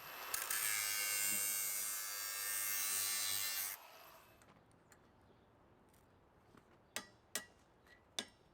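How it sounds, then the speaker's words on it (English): An angle grinder working metal during repairs on a Clark Michigan 35AWS all-terrain wheel loader forklift, a loud high whine for about four seconds that cuts off, followed by quiet with a few sharp clanks. "Little more grinding."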